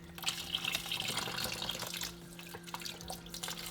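A small stream of water trickles and splashes continuously out of a Somatic UF-1 fluidized media reactor filter, a close, steady liquid pour with faint drips and a low electrical hum beneath.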